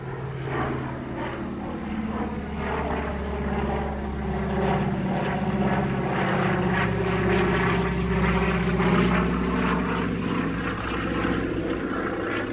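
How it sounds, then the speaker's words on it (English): A Bristol F2B vintage biplane from the Australian Vintage Aviation Society flies an airshow display at Scone, its propeller engine droning steadily and swelling slightly as it passes, loud and continuous throughout with no voices. "A surprisingly sprightly display now from the Australian Vintage Aviation Society's Bristol F2B."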